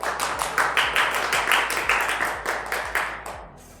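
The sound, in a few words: audience applause and clapping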